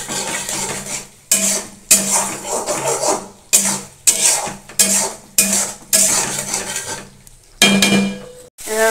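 A spatula scrapes and stirs chicken kosha, with chicken masala, garam masala and salt, in a pan. Loud, rhythmic strokes come roughly once a second, separated by short gaps, over a light sizzle.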